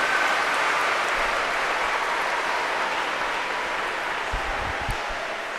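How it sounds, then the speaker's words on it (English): Audience at a graduation ceremony gives a steady round of applause, a dense wash of clapping that holds evenly loud throughout and fades slightly at the end, with no voices over it. "Can we give Mrs. Fitchett a nice round of applause?"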